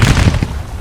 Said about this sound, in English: Let them keep firing.